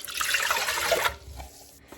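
A measured 340 milliliters of water for bread dough is poured into a bowl in a short, splashy stream lasting about a second, then trails off into quiet drips and handling.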